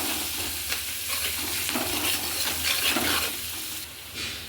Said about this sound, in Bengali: এবার পেঁয়াজটা একটু ভালোভাবে ভাজা ভাজা করে নেব